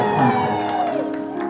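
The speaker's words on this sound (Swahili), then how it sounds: "makofi tena jameni" A gathering crowd in Meru, Kenya, breaks into loud, continuous cheering and whooping with clapping, many voices blending together and holding steady for the full stretch before easing slightly toward the end.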